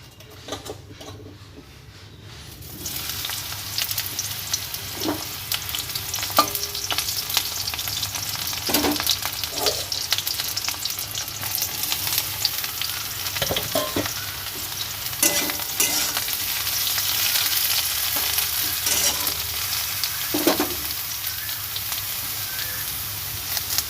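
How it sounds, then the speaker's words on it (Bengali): Brinjal (eggplant) fries in oil in a wok, with a steady close sizzle that swells after a quiet start and carries on for the whole stretch, dotted with scattered spatula scrapes and taps. "কড়াইতে তেল দিয়ে বেগুনটা ভেজে নেব"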